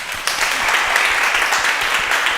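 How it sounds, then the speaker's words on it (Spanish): Steady applause from an audience closing out an evening meeting, a continuous wash of many hands clapping at moderate distance with no talk over it. "Pues un aplauso."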